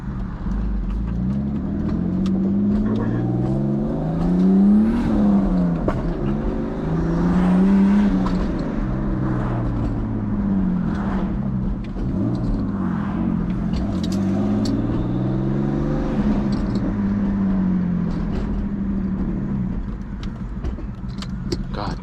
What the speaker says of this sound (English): This car is rowdy now, bro.